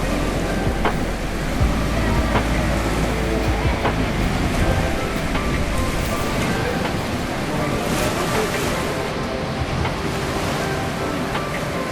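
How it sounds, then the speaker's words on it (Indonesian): Beach surf in front of a seaside cafe at Lhoknga, continuous rolling waves washing in with steady wind noise across the microphone. "Untuk pantai yang ada di depan kafe"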